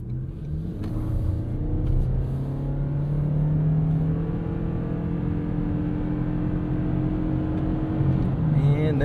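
A 2025 Toyota Crown Signia hybrid wagon accelerating hard in sport mode, a steady rising engine drone with climbing tonal hum heard from inside the cabin, sustained and moderately loud, with a brief voice early on.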